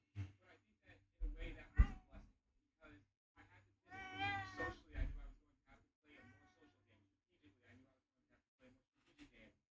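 A house cat meows a few times near a cat tree indoors, short mewing calls mixed between a person's nearby talking.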